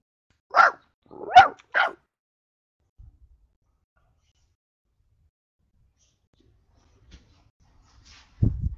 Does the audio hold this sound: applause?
no